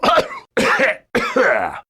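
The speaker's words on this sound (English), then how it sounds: "I just coughed up a button." Three close, forceful coughs from a person in a comedy sketch, coming in quick succession with brief gaps and no other sound.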